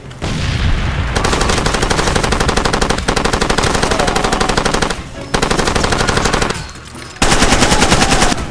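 Rapid, sustained machine gun fire in the video game Far Cry 2 comes in long, loud, dense bursts, broken by a few short gaps, close and dominating the mix.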